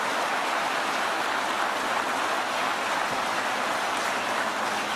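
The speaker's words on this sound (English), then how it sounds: "Let's get a round of applause for the great Secretary of Labor." A crowd at a political speech gives a steady, sustained round of applause for the Secretary of Labor, a dense hiss of many hands clapping at a slight distance, with no speech.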